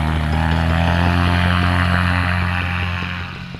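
Paramotor engine droning steadily at full power during a no-wind launch with wet wings, loud and close with a strong low harmonic hum, fading slightly near the end.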